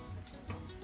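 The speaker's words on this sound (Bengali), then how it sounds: "কিছুক্ষণ ভেজে নেব" Whole spices and green chillies frying in oil: bay leaves, sliced green chillies, mace, cinnamon and cardamom sizzling softly in a pan for beef liver bhuna, a faint, steady crackle with small pops.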